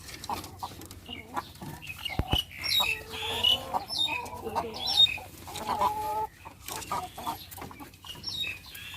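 Several laying hens cluck and squawk close by in irregular bursts, with some rustling and a brief flutter among the calls.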